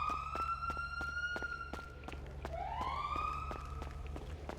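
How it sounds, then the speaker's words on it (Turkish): Police siren in the FiveM video game wails and rises in pitch as it approaches, over a low steady engine hum and a run of rhythmic footstep thuds. "Polis geliyor kanka."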